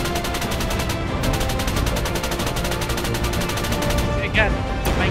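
Dense bursts of rapid automatic gunfire ring out in an Arma 3 battle, loud and nearly continuous for about five seconds, with a couple of sharper cracks near the end.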